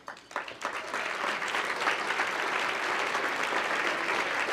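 An audience at a Legacy of HOPE special presentation bursts into applause that builds quickly and holds as a dense, steady clapping across a large hall.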